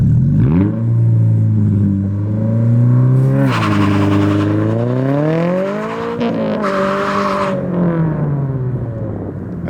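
A 2022 Subaru BRZ with a Tomei Expreme Ti 80R titanium catback exhaust revs loudly and close, its raspy engine note climbing and falling through several pulls.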